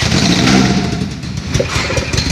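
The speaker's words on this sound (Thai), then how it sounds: "มาสตาร์ทนะครับสตาร์ทด้วยเสียงหรือว่ากดด้วยปุ่มก็ได้นะครับ" An engine on a phone-controlled remote start training kit fires up and revs, a loud, busy mid-range roar with rising surges that keeps going the whole time.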